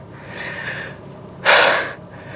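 Heavy breathing from a hiker after a steep climb to Balite Falls in Amadeo, Cavite, on a rainy day: soft breaths, then one sharp, loud gasping exhale close to the mic.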